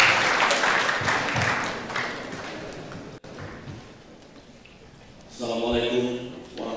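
Applause for the director of Politeknik Negeri Medan at an international cyber campus seminar and workshop, a broad wash of clapping through the opening seconds that thins into room noise before a voice begins.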